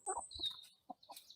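A hen on a farm sanctuary gives a few short clucks, near and fairly loud, followed by quieter scattered clucking, with a faint whistle-like call at the start.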